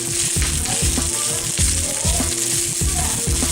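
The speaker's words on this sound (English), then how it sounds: "Give it a good stir around." Rice and vegetables stir-frying in a pan for omurice, a steady loud sizzle broken by repeated rhythmic scrapes and clanks of a utensil stirring, with no talking.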